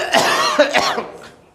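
A person coughs twice in quick succession, close and clear, then falls quiet.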